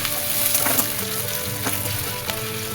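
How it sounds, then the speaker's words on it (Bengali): Potatoes fry in oil in a pan for vegetable poha, giving a continuous close sizzle with a few soft stirring scrapes and taps throughout. "আলুটা ভাজা হয়ে গেছে, আমি এর মধ্যে বিনসগুলোকে দিয়ে দিলাম।"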